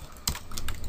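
Keys tapped on a computer keyboard while entering PHP form code, a few close clicks in quick succession over a quiet room background.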